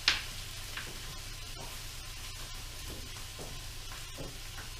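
Chicken sizzles in a hot pan outdoors, a steady crackling hiss running throughout with scattered small pops and a sharp clatter at the very start, moderately close with no talking.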